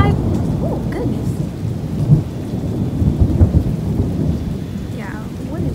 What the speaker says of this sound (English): It was just lightning. Do you all hear this?